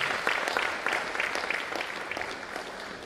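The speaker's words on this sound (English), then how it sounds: "Please, another round of applause for him." Audience applause at a university registrars' annual retreat in Nigeria, a steady wash of many hands clapping at even loudness throughout, with no voices over it.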